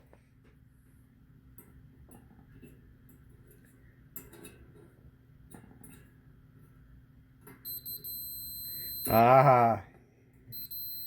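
A multimeter continuity beep sounds while a Whirlpool dryer's heating element is tested, one loud, short electronic tone near the end, after a quiet stretch with brief handling noises and a spoken interjection.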